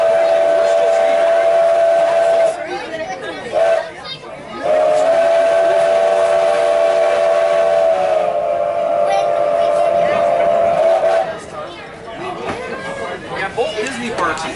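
Strasburg Railroad steam train running, a loud sustained steam whistle blowing in long blasts over the rumble of the train, with people talking nearby.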